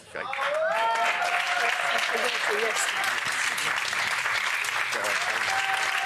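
Sustained applause from a crowd, loud and continuous, with music tones and voices audible underneath at the start.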